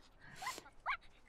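Dalmatian puppies in the video game The Sims 4 give two short, high whimpers about half a second apart, quiet and thin.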